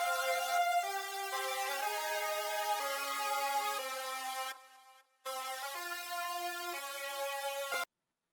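A Serum synth playing a rave-style chord pattern with no Shaperbox effect, dry and bright. It holds steady, drops out briefly near the middle, resumes, then stops abruptly near the end, with no voices.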